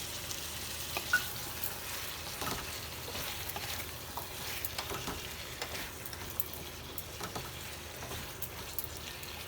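Mango pieces with their peel on cook in a pan with pumpkin over a low flame, giving a steady, moderately faint sizzle with light spattering and no talking.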